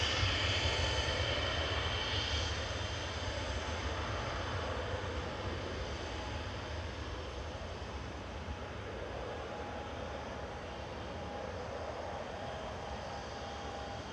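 Airliner G-UZLX departing Manchester Airport for Naples sends out a sustained engine rumble with a high whine, loudest at the start and easing gradually, heard alone without voices.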